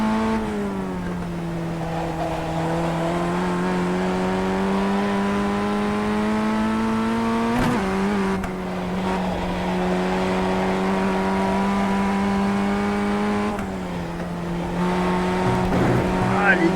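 Sustained racing car engine whine at high revs in the iRacing video game, pitch wavering and dipping briefly with gear shifts, loud and continuous throughout.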